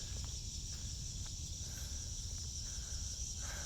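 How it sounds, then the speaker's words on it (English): Cicadas drone steadily in an outdoor natural setting, a constant high buzzing held at moderate distance with faint rustling underneath. "You guys hear the cicadas?"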